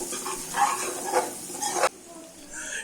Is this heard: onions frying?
yes